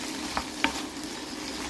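Langoustines sautéing with garlic in a pan, a quiet steady sizzle broken by a few sharp clinks of a utensil against the pan, close and fairly soft, no speech.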